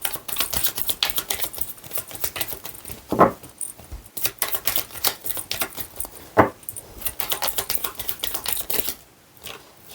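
Tarot cards handled and shuffled by hand, rapid papery riffles and flicks in dense bursts with a couple of sharper snaps, close up, ending in a brief pause.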